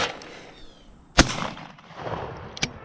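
A shotgun loaded with cheap shells fires at skeet targets outdoors, one sharp loud blast near the middle and a second fainter crack toward the end, with scattered background noise between.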